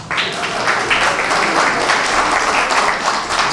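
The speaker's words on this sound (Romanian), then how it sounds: "Și continuăm cu aplauzele" An audience at a March 1st celebration in Roman applauds continuously, a dense, even wash of clapping that holds at steady volume throughout.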